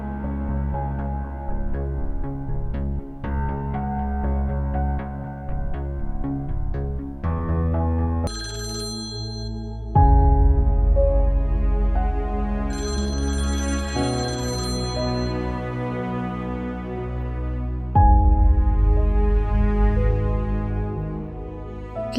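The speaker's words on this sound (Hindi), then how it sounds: "प्लीज अब्रार, फोन तो उठाओ" A mobile phone rings unanswered, its melodic electronic ringtone repeating in loud, close phrases over background music for over twenty seconds.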